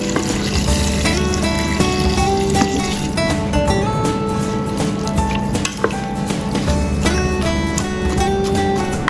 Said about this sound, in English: Pour enough water.